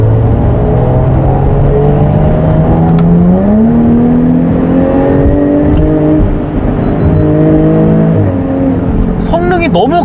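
A Jaguar F-Type P380 sports car engine revs hard and climbs through the gears, then the note drops with a downshift, loud and close throughout, with a short burst of exhaust backfire crackle near the end.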